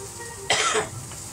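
A single short cough breaks out from someone cooking in a smoky kitchen, sharp and fairly close, with faint room quiet before and after.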